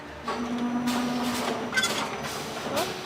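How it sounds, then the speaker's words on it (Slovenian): An orchid potting machine rotates and sets plants into pots, giving a steady mechanical whir with a sustained hum, several clanks and sliding knocks, and a brief rising squeal near the end, heard close and alone. "da se potem stroj vrti in na drugi strani rastlino vloži v lonček"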